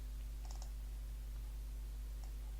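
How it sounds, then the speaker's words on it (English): A computer mouse double-clicks on a test case in testing software, a quick pair of faint clicks near the start and one more later over a steady low hum, with no talk. "So to execute the test case, double click on the test case."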